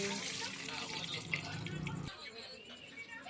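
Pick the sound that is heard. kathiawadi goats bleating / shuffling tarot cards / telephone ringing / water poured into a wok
water poured into a wok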